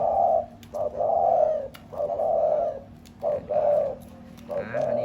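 A decoy dove coos in close repeated phrases, soft throaty calls in a steady rhythm with short pauses between them, plus a few faint clicks and background noise.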